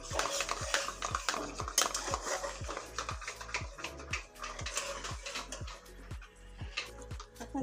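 A spoon stirs heavy cream into yogurt in a pot on a gas stove while making beef malai kebab, giving a steady series of close scraping and clinking strokes against the pan, about two per second throughout.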